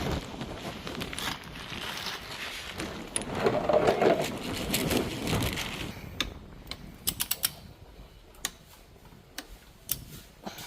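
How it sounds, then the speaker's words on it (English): Bolts torqued down on an SR20 engine during a hall sensor kit install, with a dense run of ratcheting wrench ticks and metallic mechanism noise giving way to sparse, distinct clicks near the end, no talk. "Torque it down. It's 101 to 160."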